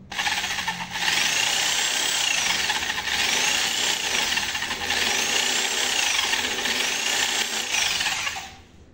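A power drill cuts threads into an engine block, its high whine holding steady in repeated strokes of roughly two seconds each before stopping near the end; close and loud with no speech.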